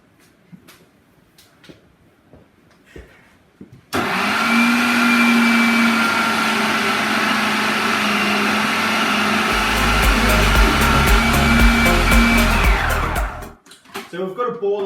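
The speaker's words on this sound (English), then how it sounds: "I'm going to turn it on until a ball of dough forms in this food processor" Food processor switched on to knead dough, a loud steady motor whir running continuously for about nine seconds with a rougher, heavier churning in the latter part as the dough balls up, then cutting off.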